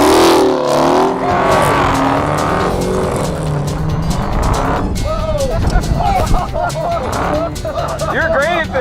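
A Dodge Charger Hellcat muscle car drives hard off-road, its engine roaring and revving up and down with tire squeal and skids, loud and close, while people talk over it.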